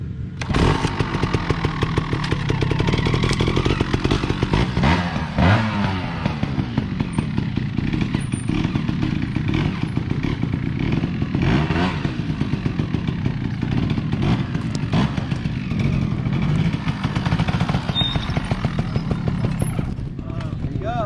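A motorcycle engine runs continuously near and loud, its rough, buzzing idle steady throughout while the clutch is checked, with a person talking over it.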